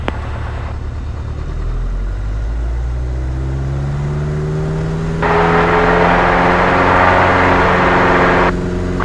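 A light aircraft engine on its takeoff run drones steadily, then its pitch rises and swells louder as power builds, heard from inside the cabin with no talk over it.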